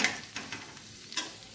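Spine gourd frying lightly in a pan over a low gas flame: a soft, quiet sizzle broken by a few gentle stirring scrapes, with no voice.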